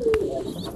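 A French meat pigeon in a nest gives a single short, soft low coo, close by, with a faint brief tap and quiet background.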